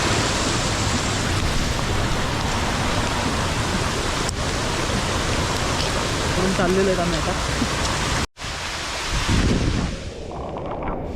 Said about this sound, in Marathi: खूप पाऊस आहे बघा इकडे.